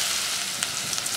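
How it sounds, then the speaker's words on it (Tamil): Steady oil sizzle of finely chopped onions frying for a dry fish curry, a bright hiss with faint crackles and pops, close by with no talking. "நல்லா ஃப்ரை ஆகுதுங்க"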